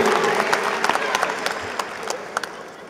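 A crowd at a college graduation ceremony applauds, a dense wash of clapping with scattered sharper claps standing out, gradually thinning toward the end.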